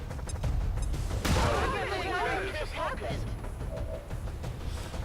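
Flashbang grenades bursting in XCOM 2 on a Long War 2 modded campaign, a sharp bang followed by several seconds of crackling, fizzing rattle, loud and close, with talk running underneath.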